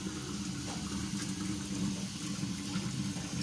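Water runs steadily from a tap while a cup is washed out, a continuous close rushing splash with no pauses throughout.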